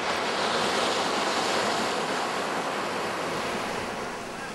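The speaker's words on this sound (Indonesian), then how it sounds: "Gelombang tinggi akibat Badai Rosi dan Durga juga melanda laut selatan Pulau Jawa" Storm-driven high waves on the sea south of Java, whipped up by storms Rosi and Durga, roar in a loud continuous wash with wind buffeting, easing slightly toward the end.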